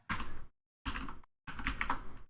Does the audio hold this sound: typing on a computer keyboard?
yes